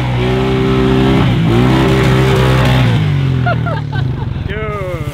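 A Honda Rancher utility quad fitted with paddle tires runs loud and close with a steady, droning engine that rises and falls, while people talk over it and the engine note shifts near the end.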